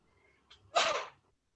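A single close, sharp sneeze, preceded by a brief intake of breath, in an otherwise quiet room.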